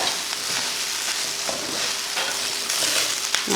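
Coconut rice with a sprinkle of coriander leaves stirred in a pan, a steady soft sizzle and scraping with no talking, fairly even throughout.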